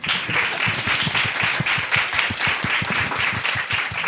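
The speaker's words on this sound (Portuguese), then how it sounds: "Pode aplaudir." An audience at a live podcast taping applauds steadily, with continuous dense clapping at an even level throughout.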